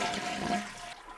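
A toilet tank is flushed and drained during a leaky-toilet repair, a steady close rush of draining water that eases slightly toward the end.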